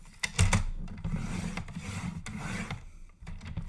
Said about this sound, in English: let's score it first at 1/2 inch.